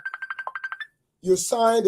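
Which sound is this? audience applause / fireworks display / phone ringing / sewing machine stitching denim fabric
phone ringing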